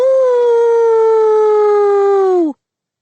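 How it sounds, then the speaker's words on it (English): A werewolf howl used as an audiobook sound effect: one loud, sustained, slightly falling wail of about two and a half seconds that cuts off abruptly, heard alone without any speech. "The werewolf howled again."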